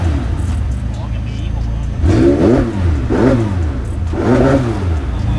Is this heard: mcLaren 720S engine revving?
yes